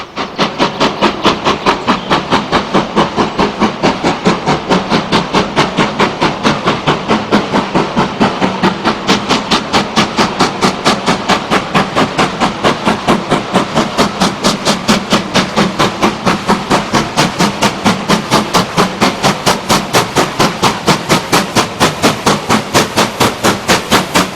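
Stanier steam locomotive 45212 approaches Darnholme on the North York Moors, its fast rhythmic exhaust beats pounding loudly and evenly for the whole stretch, close and dominant with no voices.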